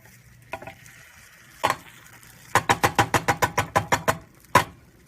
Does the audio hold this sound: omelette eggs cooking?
yes